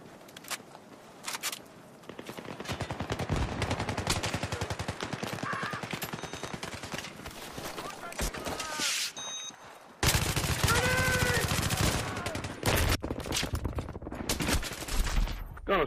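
Sustained gunfire rattles through a Battlefield 3 match on Wake Island, with dense automatic bursts and single shots that stop and start. A louder stretch of rapid fire comes near the end, with occasional faint footsteps and game effects underneath.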